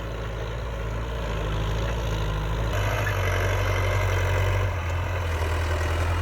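A Ford 6640 tractor with an air-conditioned cab, towing a rear grader blade, idles and chugs steadily, a deep continuous low rumble that shifts pitch slightly partway through.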